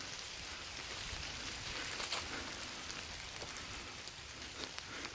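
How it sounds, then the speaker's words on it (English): Steady rain falls in an old, partly forgotten rural graveyard, a dense continuous hiss of drops with occasional louder patters on nearby surfaces, heard close and alone without talk. "Man, that rain came in fast"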